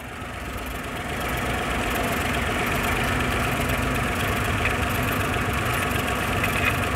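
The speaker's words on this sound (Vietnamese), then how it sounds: "Máy đang nổ này." A Chevrolet Spark car engine idles. After a short rise in the first second it settles into a steady, even idling hum with no talk over it.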